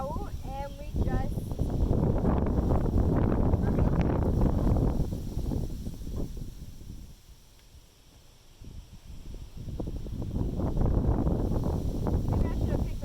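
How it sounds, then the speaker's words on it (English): Strong outdoor wind buffets the microphone in a heavy, low roar that eases briefly in the middle before gusting back up, with voices partly buried beneath it. "maybe I should have picked a less windy day to do that."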